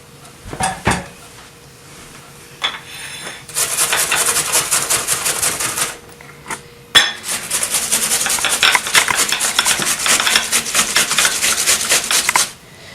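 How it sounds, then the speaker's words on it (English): An onion is grated for potato pancakes in two long bursts of fast, rasping strokes, close and loud. Scattered knocks and clatters come before and between the bursts. "Now we're just going to grate the onion."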